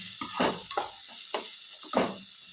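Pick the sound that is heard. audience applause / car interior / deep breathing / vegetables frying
vegetables frying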